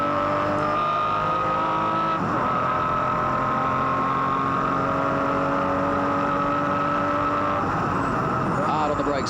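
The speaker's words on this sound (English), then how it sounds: "this glorious sound. Let's have a listen through the gears." A rally car engine roars loudly as it accelerates, the pitch climbing and dropping with each gear change, continuous and close.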